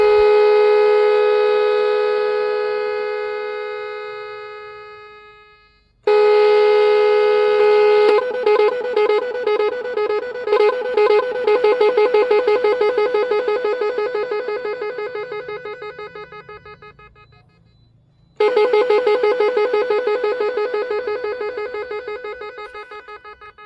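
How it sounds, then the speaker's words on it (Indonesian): An echo-style telolet horn cycles through several tunes: a long sustained tone fades out, then rapid pulsing melodic honks follow. After a brief gap another loud tone starts and fades, close and very loud, with no talking. "jadi itu untuk beberapa suara dari klakson Gema ya"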